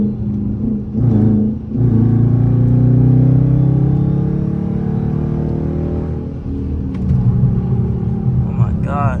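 A Dodge Charger R/T with its mid mufflers and resonators deleted pulls hard on the road, its exhaust swelling into a loud, deep, rising drone that holds for several seconds and then eases off, heard from inside the car.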